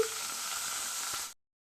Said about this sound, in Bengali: তাতে কিছুটা তেল ছিল সেটার মধ্যে আমি আবার পনিরগুলি ভেজে নিচ্ছি